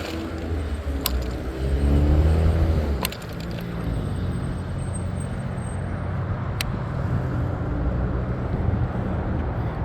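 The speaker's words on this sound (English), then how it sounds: "We are waiting for expressway traffic." Expressway traffic rushes past a rider waiting on an electric scooter, with a loud nearby vehicle swell early on, then a steady roar of passing cars, plus a few sharp clicks.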